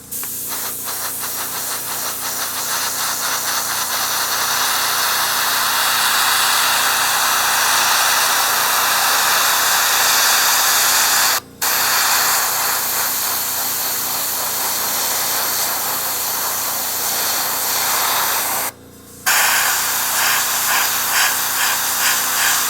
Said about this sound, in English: now I'll fire up the airbrush and give this just a little dusting